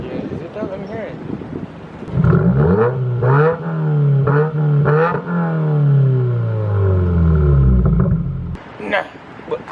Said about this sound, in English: Yeah, man, my car's pretty loud.